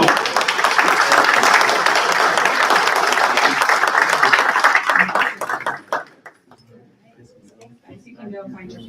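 Audience applause at a school board meeting, a full room clapping loudly and steadily for about five seconds, then thinning to scattered claps and a soft murmur of voices.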